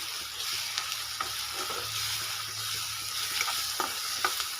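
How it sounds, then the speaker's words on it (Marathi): Tempering of crushed chilli and spices sizzles in hot oil for a moong dal amti, a steady soft frying hiss with occasional crackles and stirring clinks, fairly faint and without voices. "आपली फोडणी मस्त बसली आहे आता कडक आणि छान"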